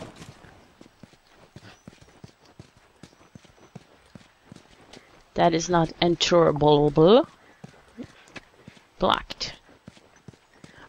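Horse hooves clip-clop in a steady run of light, repeated thuds in The Last of Us video game, with a voice talking over part of it.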